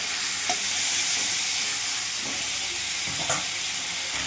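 Spice paste, pointed gourd and potato pieces for a parshe fish curry fry in a pan with a loud, continuous sizzle, and a few scraping stirs break through now and then.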